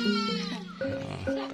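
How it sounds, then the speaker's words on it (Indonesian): Goats on a farm in the remote countryside of Kedung Banteng bleat close by in several wavering calls, one following another. "Kambing."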